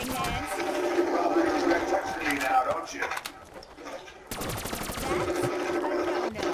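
Rapid bursts of gunfire from Black Ops 3 zombies mode, loud and close, in dense clattering volleys that pause briefly midway and then resume with sharp repeated shots.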